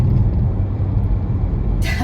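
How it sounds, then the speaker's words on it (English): An Audi SQ5 with a 3-litre bi-turbo engine is driven along: a steady, loud low rumble from inside the cabin, with a brief hiss of higher noise near the end. "3-litre engine going there"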